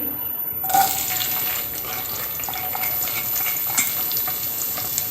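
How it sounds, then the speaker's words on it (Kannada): Chopped onion hits hot oil in a pan and sizzles loudly and close, the crackle staying steady with small stirring scrapes and no talk. "ಇವಾಗ ಎಣ್ಣೆ ಕಾಲಕ್ಕೆ ಸ್ವಲ್ಪ ಈರುಳ್ಳಿ"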